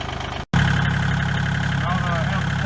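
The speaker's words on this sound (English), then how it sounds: "Now that I have the post in position, I'm just using the bucket to pound it down." A tractor engine runs steadily at close range while its bucket pushes a railroad-tie post into the ground, a constant loud rumble after a brief cut near the start.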